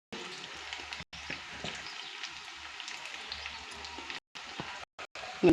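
Soft, steady crackling sizzle of pasta frying in a pan with chilli powder, with a few brief gaps and a clunk at the end.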